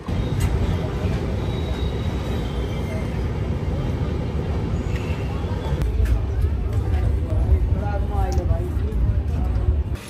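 A freight train rumbles past steadily, a dense low roar with clattering wheels and occasional metallic squeals throughout, near Mehsana station, Gujarat.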